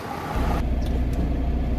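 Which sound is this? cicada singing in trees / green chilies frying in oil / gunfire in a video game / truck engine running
truck engine running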